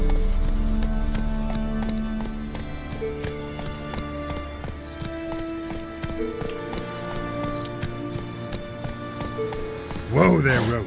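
Roach, a horse in The Witcher 3, gallops with quick, rhythmic clip-clop hoofbeats over a musical score, ending in a loud, close whinny.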